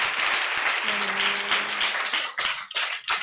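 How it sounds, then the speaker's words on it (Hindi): A church congregation at a live-streamed service in Gandhidham claps together in a dense, sustained burst, with a brief voice rising over it before the clapping breaks into separate claps. "Clap your hands."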